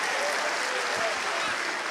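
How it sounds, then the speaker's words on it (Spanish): A church congregation applauds during a sermon, a dense, even wash of clapping from a large group that holds steady for a brief moment. "Un aplauso a Cristo."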